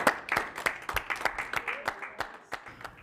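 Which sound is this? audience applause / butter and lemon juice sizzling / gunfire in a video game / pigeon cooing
audience applause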